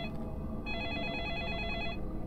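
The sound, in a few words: phone ringing in a video game (Deadly Premonition)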